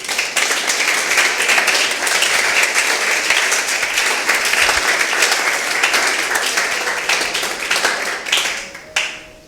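A church congregation gives a loud round of applause to God during a sermon, thick continuous clapping that holds steady for several seconds before thinning out at the very end.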